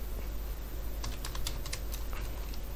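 Someone types code on a computer keyboard in short bursts of quick, light key clicks. A low steady hum runs underneath, and no one speaks.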